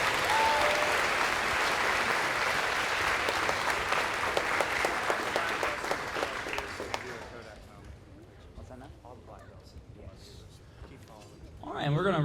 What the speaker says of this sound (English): Let's give the red belt recipients another round of applause.